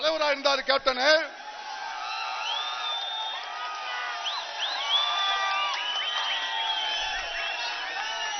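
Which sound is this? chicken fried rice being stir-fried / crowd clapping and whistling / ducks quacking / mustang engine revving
crowd clapping and whistling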